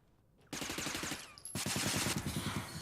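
Rapid automatic gunfire from the video game Interstellar Marines rattles loud and close in dense bursts, a brief gap splitting two sustained volleys.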